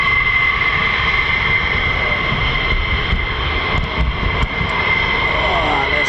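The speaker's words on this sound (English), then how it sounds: "that looks like an F-35 coming at us down the catwalk." An F-35 fighter jet approaching along the taxiway at RAF Lakenheath, a loud steady jet roar with a high whine, constant throughout with voices talking over it.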